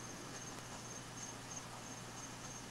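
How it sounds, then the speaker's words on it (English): Crickets chirping in a thin, steady, high pulsing trill over a faint low hum, quiet and continuous with no one talking. "Oh, crickets."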